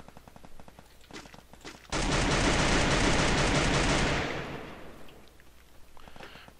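Dense automatic gunfire in the battle royale game Free Fire, a loud sustained burst of rapid shots lasting a couple of seconds, preceded and followed by scattered quieter shots.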